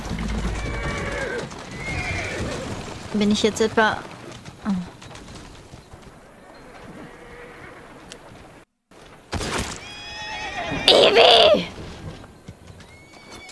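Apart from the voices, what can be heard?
horses neighing in the video game Assassin's Creed Syndicate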